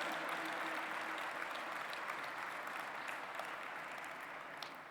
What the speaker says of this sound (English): Thank you for a round of applause